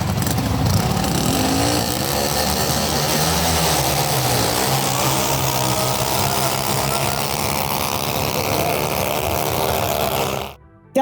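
Turbo speed boat racing engines roar in a steady, loud, continuous drone with a slight shifting pitch, heard from a close vantage point at a race in Thailand, before cutting off abruptly near the end.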